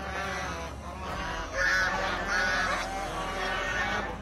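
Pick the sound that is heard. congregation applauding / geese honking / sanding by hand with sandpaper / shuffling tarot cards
geese honking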